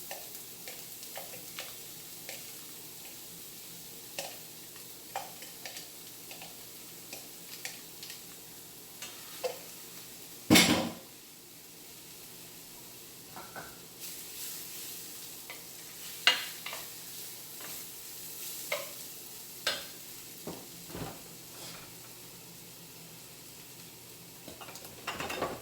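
Chopped pumpkin sizzling in olive oil in a pot on a stovetop: a quiet, steady frying hiss with scattered small pops and clicks, and one louder clunk partway through.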